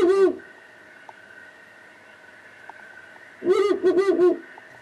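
Recorded long-eared owl calls played as a lure sound twice: a short call at the start, then a longer run of quick hoots after a quiet gap, fairly close and clear.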